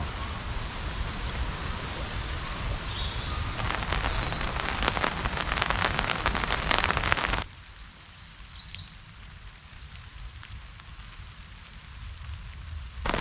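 Steady rain pattering on a tarp at a wild camp, loud and dense for about seven seconds, then easing to a softer, continuous patter for the rest.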